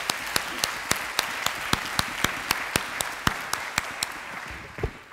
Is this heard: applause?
yes